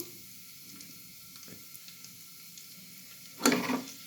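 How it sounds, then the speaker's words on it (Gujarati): Asafoetida and curry leaves hit hot groundnut oil for a spice tempering in a Kathiyawadi undhiyu: a quiet kitchen hum, then one short, loud burst of sizzle near the end that quickly fades. "થોડી આપણે આમાં હિંગ એડ કરી દઈશું. થોડા સૂકા લીમડાના પાન એડ કરી દઈશું."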